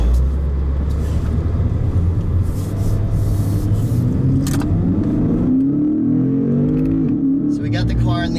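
A 2017 Lexus GS F's 5-liter V8 rumbles, then pulls harder with rising engine pitch as the car accelerates, the sound heard from inside the cabin.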